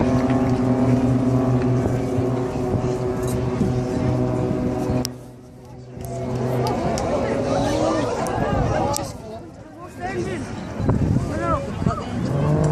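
Aerobatic display aircraft engines at the Scottish Air Show, a loud sustained engine drone with steady tones that drops away twice as the throttle closes, then returns, with crowd noise and speech mixed in.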